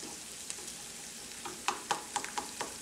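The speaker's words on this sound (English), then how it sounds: "We're gonna roast this garlic." Garlic roasting in a pan for garlic fries, quiet steady sizzle broken by several sharp crackles and pops in the second half, close and faint, with no talking.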